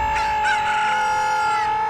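In Donkey Kong Country Returns HD, the giant chicken boss gives a brief squawking cluck over a sustained, tonal game-music backdrop, loud and close, with no speech.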